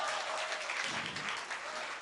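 A room of coaching-class students applauding a teacher at a Teachers' Day event, steady, fairly loud clapping from a group that continues throughout the short moment.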